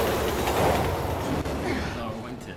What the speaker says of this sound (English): Oh, Train's coming!